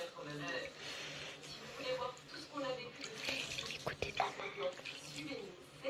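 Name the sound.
rinsing a dirty paintbrush under water with shampoo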